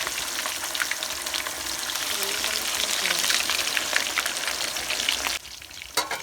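Pieces of fish fry in hot oil in a home kitchen, giving a loud, close, continuous sizzle that drops off abruptly near the end.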